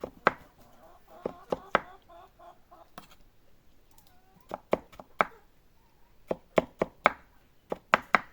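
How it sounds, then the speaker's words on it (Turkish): A knife chops tomatoes sharply against a cutting board in quick bursts of several strokes, with short pauses between the clusters. "Nasıl doğradığımı gösteriyorum size."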